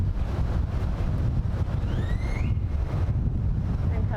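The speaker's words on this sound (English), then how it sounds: "Ooh, there's that wind." Wind blows outdoors during a free yoga session in downtown Dallas, a steady, loud rumbling buffet against the microphone that lasts the whole time, with a few faint high chirps briefly rising above it.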